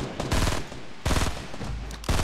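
Bursts of automatic gunfire from Fortnite battle royale gameplay, three loud rapid volleys separated by short pauses, close and dominant with no talking.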